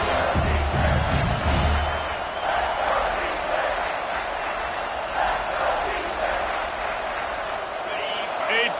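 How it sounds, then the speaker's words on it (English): A college football video game fills the scene with a stadium crowd's broad, sustained roar that swells slightly near the end, while a commentator speaks over it. "this defense feeling energy from the crowd"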